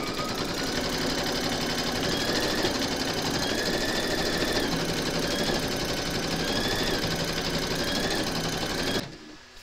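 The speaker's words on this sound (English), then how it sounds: "Pop your hoop into your machine and stitch round number two to secure it" An embroidery machine stitches an appliqué outline for a large skeleton design through batting, a loud steady mechanical whirr with rapid needle rhythm running continuously before stopping abruptly near the end.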